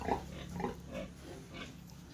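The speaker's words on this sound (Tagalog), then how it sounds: "ito yung mga alagang baboy ni Katribo" Domestic pigs grunting and snuffling in a few short bursts, fairly close, over a low steady background hum.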